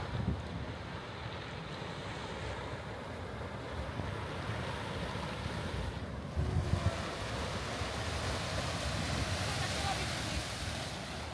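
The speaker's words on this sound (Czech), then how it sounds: "My jsme se podívat na rozbouřené moře." Stormy sea waves off Hvar roar in a continuous broad wash, mixed with strong wind buffeting the microphone, one surge swelling briefly midway.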